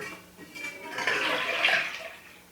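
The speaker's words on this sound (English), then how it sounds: "And I'm going to pour my 3 cups of milk in there." Three cups of milk pour from a container into a saucepan, a single close, steady liquid rush that swells over about a second and then tapers off, with no talk.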